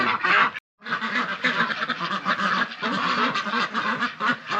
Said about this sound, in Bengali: আজকে আমি একটা হাঁসের খামারে উপস্থিত আছি